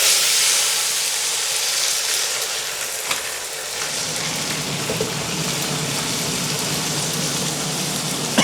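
Blended ingredients hit a very hot frying pan and produce a steady, broadband sizzle and hiss. It is moderately loud and close, and it carries on without pause. No voices are heard.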